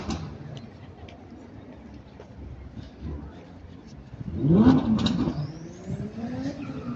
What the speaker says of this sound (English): it's a turbo noise